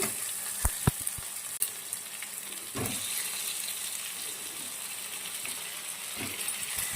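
Ginger garlic paste fries in hot oil for a capsicum masala curry, a continuous close sizzle and hiss with a few clinks of the utensil against the pan early on.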